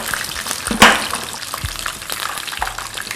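Battered canned sardines frying as tempura in hot oil, a steady crackling sizzle with a sharp splattering burst near the start, close and fairly loud with no talking.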